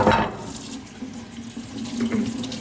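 Tap water runs into a sink at home while things are washed, a steady close splashing stream that lasts the whole short stretch with no talking.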